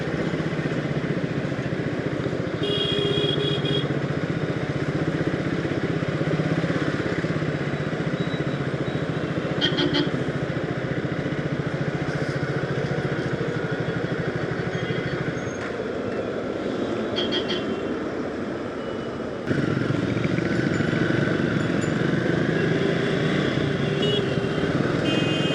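Triumph Speed 400 motorcycle ridden at night on the way to an airport, a loud continuous engine drone and wind rush heard up close, with a brief dip in tone midway as the rider shifts.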